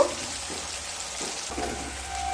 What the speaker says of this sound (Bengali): পেঁয়াজগুলোকে ব্রাউন কালার করে ভেজে নেব